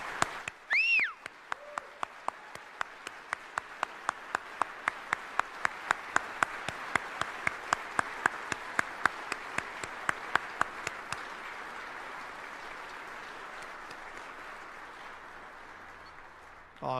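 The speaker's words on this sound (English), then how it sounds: "let's all stand up and give Kate a standing ovation and a round of applause." A large crowd at a military retirement ceremony rises for a standing ovation, with sustained applause and sharp clapping that swells, holds steady for about ten seconds, then gradually fades away.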